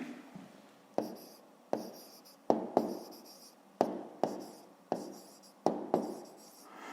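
A pen writes on paper while a math exercise is worked out, giving a series of about eight crisp, close strokes, each a sharp scratch that fades before the next.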